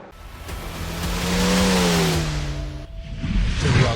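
A Corvette Z06 GT3 race car engine in the iRacing game revs and accelerates around Daytona road course, a loud rising then falling engine drone with a gear change near the end.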